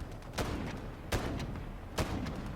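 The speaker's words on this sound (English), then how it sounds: "So I'm shooting at it." Game gunfire from Modern Warfare Special Operations, aimed at a tank: three sharp, loud shots spaced about a second apart over a steady low battlefield rumble.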